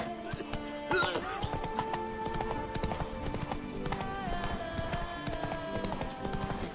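Horse hooves clip-clopping at a gallop in The Witcher 3 game, a rapid, even rhythm over steady music and other game sounds.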